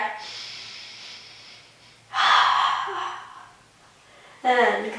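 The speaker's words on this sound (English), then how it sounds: "One more breath." Deep breaths during a beginner core workout, a long exhale followed by two sharp, loud inhale-like gasps or snorts spaced a couple of seconds apart, close and clear with no talking.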